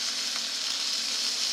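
Pot roast meat browning in a hot pan gives a steady, dense sizzle that runs unbroken and close, with no talk over it.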